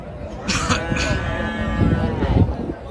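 Cattle, including HF and Jersey calves, moo at a busy Sunday cattle market in Chintamani, with several loud, close lowing calls over a murmur of people and background noise.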